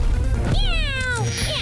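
A cartoon cat lets out a loud, close, drawn-out meow with a rising then falling pitch, set against busy background sound.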